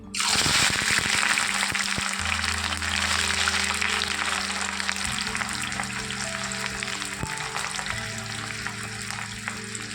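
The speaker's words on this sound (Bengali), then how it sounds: "এবারে আমি পেঁয়াজের বেরেস্তা বানিয়ে নেব" Sliced onions fry in hot white oil in a kadai over a medium gas flame, a loud, continuous, crackling sizzle that starts abruptly and holds steady throughout, close up.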